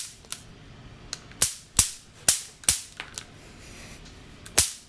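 Zaps from a bug zapper: a series of sharp, loud crackling snaps at irregular intervals, each with a quick decay, alone with no talking.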